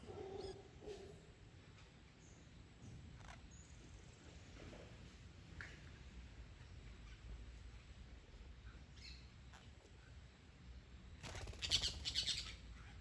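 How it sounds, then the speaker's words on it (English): Scattered faint bird chirps from mango trees in Costa Rica over a steady outdoor rumble, with a brief rustle of wings or leaves near the end. "It attracted lots of birds."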